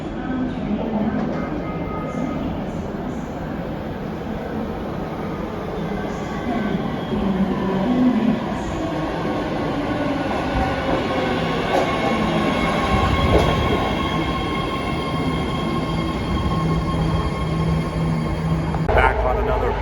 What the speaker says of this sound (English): I'm on the BART, or Bay Area Rapid Transit.